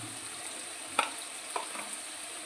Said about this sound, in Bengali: পেঁয়াজগুলো একটু ভাজা ভাজা হোক আর দিয়ে দেবো অল্প একটু নুন যাতে পেঁয়াজটা তাড়াতাড়ি ভাজা হয়ে যায়